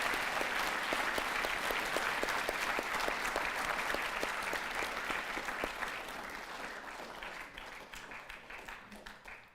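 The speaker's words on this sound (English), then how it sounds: "Let's give another round of applause to our wonderful speakers and veterans." A crowd claps steadily for speakers and veterans at a Veterans Day program, a dense, even round of applause that holds strong and then gradually thins and fades toward the end.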